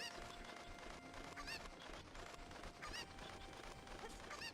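Cucco chickens squawking in the video game The Legend of Zelda: Ocarina of Time, several short high cries popping out over a busy, steady game soundtrack.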